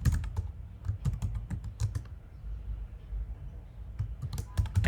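Rapid, close clicking of keys on a computer keyboard as an email address is typed, in two quick bursts with a brief lull between them.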